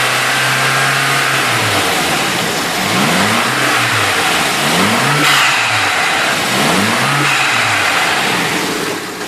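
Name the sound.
engine running and revving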